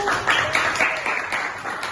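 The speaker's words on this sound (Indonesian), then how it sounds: "Tepuk tangan semuanya untuk kelompok 1." Applause in a classroom for a winning group of students, close, lively clapping from many hands in uneven bursts, loud and continuous for two seconds.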